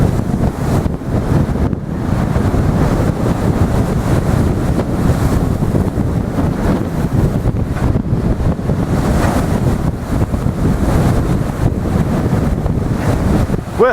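Strong wind buffets the microphone on an English seaside pier at Blackpool on a cool, breezy morning, a loud continuous roar with gusty surges and a faint wash of surf beneath, no talking.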